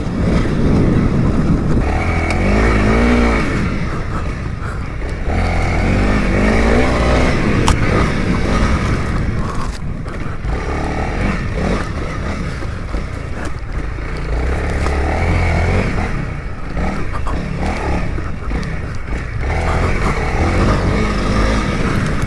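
A Honda CRF300L dual-sport motorcycle on stock tires is ridden off-road, its engine loud and close, revving up and down through the gears with repeated throttle surges and brief drops.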